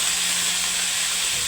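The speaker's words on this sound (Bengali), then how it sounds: "এখানে তেলের মধ্যে আমরা ফুলকপি, আলু এগুলোকে ভেজে নিচ্ছি" Cauliflower and potato pieces frying in hot oil, a steady bright sizzle and hiss that runs unbroken and fairly loud from start to end.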